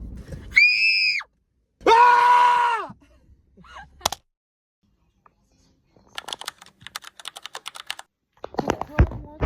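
A child screams at full volume in two long bursts with a pause between, followed by a brief knock and light clattering taps like keyboard typing.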